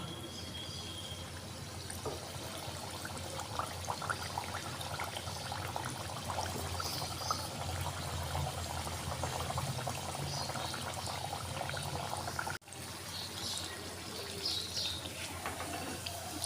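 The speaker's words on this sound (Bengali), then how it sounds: "আমি এরপর একটা করে পুরি ভেজে নেব" Sweet milk puri deep frying in hot oil, a steady bubbling sizzle with occasional soft crackles, moderately quiet and continuous throughout.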